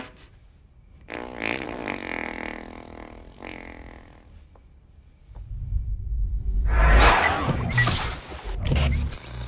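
A long, low, rumbling fart sound effect from a parody horror comedy, drawn out over several seconds with shifting pitch and a louder, rougher stretch toward the end, alone without talk.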